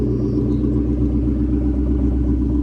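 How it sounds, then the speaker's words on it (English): A 1999 Kenne Bell supercharged Cobra engine after a cold start, idling with a loud, steady low rumble and a faint mechanical clatter, heard close and without talk. "That was the first cold start I've done with it"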